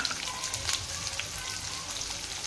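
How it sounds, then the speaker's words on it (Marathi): Onion frying with cumin seeds and curry leaves in a pan for a mixed vegetable dish, a steady soft sizzle and crackle with faint scattered pops throughout, no voices. "तरी कांदा फ्राय होऊन घ्यायचा आहे आपल्याला"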